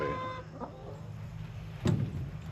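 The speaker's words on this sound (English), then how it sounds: "Let's get these chickens" Chickens cluck and call on a small homestead farm at feeding time, with a busy burst of hen chatter near the start and a louder squawk toward the end over low background noise.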